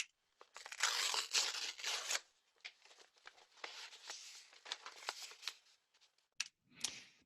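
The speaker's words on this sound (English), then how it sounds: "I literally recorded myself ripping an envelope open" A paper envelope is ripped open up close, with a long crackling tear followed by shorter tearing bursts and a few sharp final rips, heard alone and fairly quiet.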